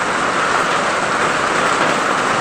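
Rain pours steadily during a strong typhoon in a rural farm area, a dense continuous hiss filling the air without pause.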